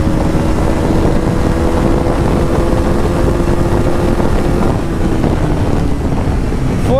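A modified third-generation KTM Duke 250 motorcycle pulls hard through the gears, its engine note rising steadily under heavy wind rush, then easing off as the rider brakes lightly on a narrow road.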